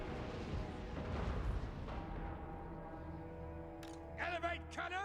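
Cannon artillery fire in Total War: Warhammer 2 during an Empire battle, a deep booming blast with rumbling roar fading into battle noise, followed by a voice speaking.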